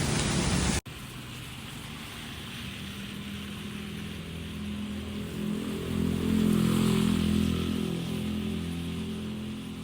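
Heavy rain pours steadily as a broad, even hiss, with a low engine-like rumble swelling underneath midway, after an abrupt cut at the start.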